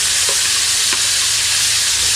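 Onions sizzling steadily in a hot pan, a constant bright frying hiss with a couple of faint clinks, no talking.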